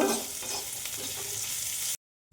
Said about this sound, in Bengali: এটা নেড়ে চেড়ে একটু ভাজা ভাজা করে নিব